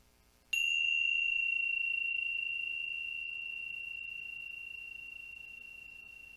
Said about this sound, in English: So I'd like to ring the bells again, if I may.